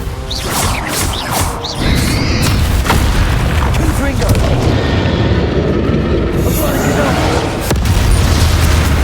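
A Confringo fire spell cast in Hogwarts Legacy: loud booming blasts with whooshes and crashing debris, thick with layered game effects throughout.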